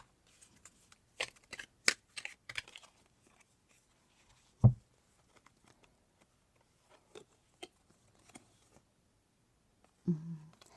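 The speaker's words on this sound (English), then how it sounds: "I'm going to pull tarot to go with those cards" Tarot cards are handled and shuffled with scattered soft slaps and flicks, quiet and close, with irregular gaps and a couple of louder thumps.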